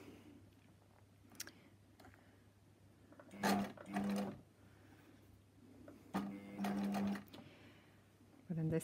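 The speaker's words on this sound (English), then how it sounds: "we're just going to go through and continue to sew straight along the edge." A sewing machine stitches straight along the edge of a jeans back pocket in two short bursts of whirring, separated by quieter stretches where a person talks.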